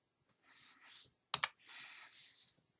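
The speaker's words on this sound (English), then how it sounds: "And I'm just using my arrow keys." Two quick clicks of computer keyboard arrow keys being pressed, close and crisp, sitting between stretches of faint background hiss.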